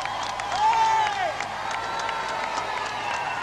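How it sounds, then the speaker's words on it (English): A large crowd at the 1981 royal wedding of Charles and Diana cheers and whoops with hooters, horns, rattles and bells, a dense distant roar with a brief rising horn-like whistle, under a commentator's voice. "Cheers and more cheers. Hooters and horns and rattles and bells."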